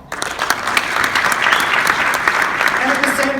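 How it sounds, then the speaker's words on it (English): A corporate audience bursts into loud, dense applause that holds steady from start to finish, close and full, with no clear voices above the clapping. "Applause."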